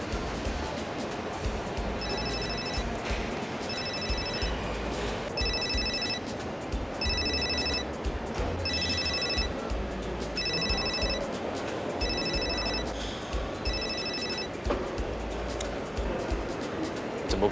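A telephone rings repeatedly and goes unanswered, with regular electronic ring bursts repeating at steady intervals for over a dozen seconds over a continuous rushing background.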